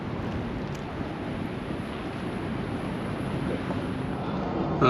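Steady, loud wind roaring across the microphone on a California beach, a continuous broadband rush with low rumbling gusts and no voices.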